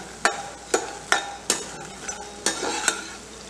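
A spoon repeatedly scrapes and knocks against a pan while coriander panjiri roasts until golden brown, sharp rhythmic stirring strikes about every half second over a faint dry sizzle.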